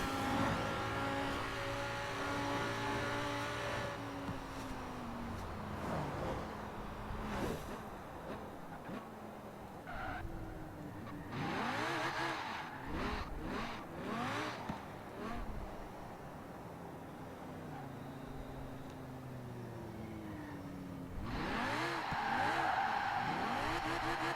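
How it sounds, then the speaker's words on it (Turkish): A BMW E92 M3 drifts at full throttle in Forza Horizon 4, its engine revving and rising in pitch over repeated gear changes while the tires squeal in long, loud slides. "Hafif hafif yanlayalım, açı verelim. Şurada bir dip gaz yapalım."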